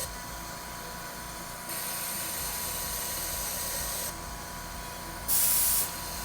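A compressor in a ventilator setup kicks on: a steady airy hiss steps up in level, drops back, then gives a brief, brighter burst of hiss near the end.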